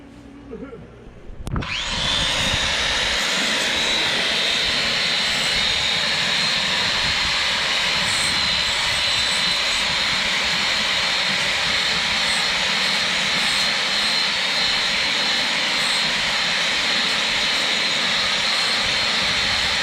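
A power tool with a sanding disc spins up after a brief thump, then a loud, steady grinding whine with harsh abrasive noise continues without pause.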